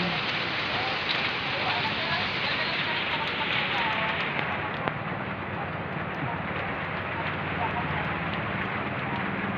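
Steady rain falls outdoors in Imos, a dense unbroken hiss of drops on surfaces that holds at an even, fairly loud level throughout, with no speech over it.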